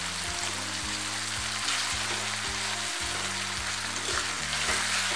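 Onion and tomato fry in a pan with a steady broadband sizzle as they are stirred, a continuous close crackle with some low tonal hum underneath.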